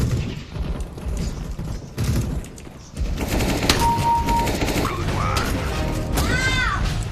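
Rapid bursts of gunfire from a shotgun in the video game CS GO, loud and near, with clattering mechanical game effects and short electronic tones layered throughout.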